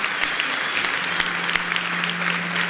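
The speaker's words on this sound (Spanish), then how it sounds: "Le damos un aplauso fuerte." A church congregation claps together in a loud, sustained burst of applause, dense and even, with a low hum underneath and no clear voices above it.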